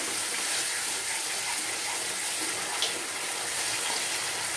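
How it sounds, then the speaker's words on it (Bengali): Water used to rinse a masala bowl poured into cooking masala for a vegetarian matar paneer, a steady close rushing pour with no breaks. "যে বাটির যে ধোয়া জলটা, মশলা ধোয়া, সেই জলটা আমি এতে দিয়ে দিলাম"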